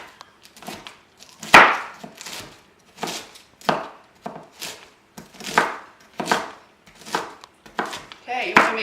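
A knife finely chops cabbage in a steady rhythm of firm, close strikes, about a dozen evenly spaced chops, each cutting through with a crisp, woody thud.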